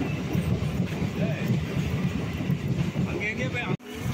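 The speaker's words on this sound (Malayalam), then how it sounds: "നമുക്ക് പോവാനുള്ള ട്രെയിൻ വന്നിട്ടുണ്ട്, ട്രെയിൻ 6769 ആണ്" Passenger train 6769 pulls into a station with a continuous rumble and clatter of wheels and a few faint squeals, before the sound cuts off abruptly near the end.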